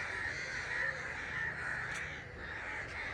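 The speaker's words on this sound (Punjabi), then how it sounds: "ਇਕੱਠੇ ਹੋ ਗਏ ਇੰਨੇ ਕਾਂ ਕਿੱਥੋਂ ਆਏ" A flock of crows gathered in a village caw repeatedly at a moderate distance, their harsh calls overlapping in a continuous, restless chorus over soft background noise.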